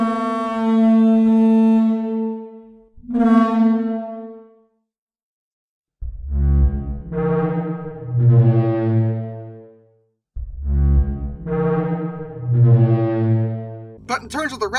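Simulated hadrosaur call resonating through its hollow crest: long, deep, foghorn-like honking tones, a sustained bellow followed by a shorter one, then two more rich resonant calls after a pause, loud and close.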